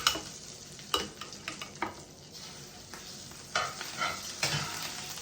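Butter-coated cod fillets sizzle in a hot pan with a busy crackle, punctuated by several sharper pops and stirring scrapes, close and fairly quiet with no talking.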